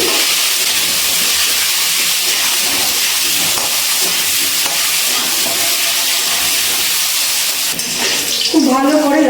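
Potatoes with salt and turmeric frying in oil over a high gas flame give a loud, steady, close sizzle throughout, with a brief voice near the end.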